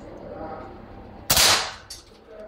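Air rifle fitted with a Huma regulator, firing a single sharp, loud shot that cracks and then fades quickly, with quiet background noise around it.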